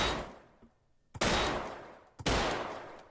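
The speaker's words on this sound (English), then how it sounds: "Okay, so now we have the Lenderson pistol." Lenderson pistol shots in the game Gunman Contracts: two sharp, loud reports about a second apart, each with a long ringing tail that fades, following the decaying echo of an earlier shot.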